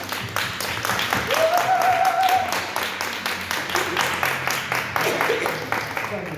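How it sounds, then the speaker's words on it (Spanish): An interview audience breaks into clapping that swells and then fades into scattered claps, with voices over part of it. "Un aplauso, por favor."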